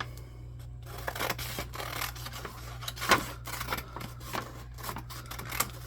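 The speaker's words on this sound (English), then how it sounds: "I just cut along the bottom seam, and I do so on the other side" Scissors snip through a brown paper bag along its bottom seam, producing a run of short, close papery cuts and rasps with one sharper crunch partway through, over a low steady hum.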